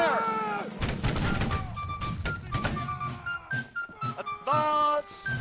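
A booming musket volley crackles out in the Napoleonic line-battle video game Holdfast: Nations At War, a loud, ragged burst of overlapping shots followed by scattered reports, with shouted voices and chatter around it.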